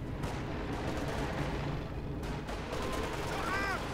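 Obersoldaten infantry firing in Company of Heroes 2, a thick, continuous crackle of rifle and machine-gun fire layered with distant booms of a busy battlefield, loud and sustained throughout without pause.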